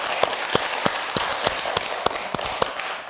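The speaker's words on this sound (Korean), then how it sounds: "박수 한번 쳐주세요" Crisp, evenly spaced claps in a steady rhythm from an audience at a Buddhist dharma talk, the sharp hand strikes standing out over a soft wash of further clapping.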